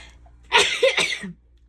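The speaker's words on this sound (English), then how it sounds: "I'm going to sneeze" A single sharp sneeze, loud and close, with a quick intake of breath before it and a short vocal tail after, in an otherwise quiet room.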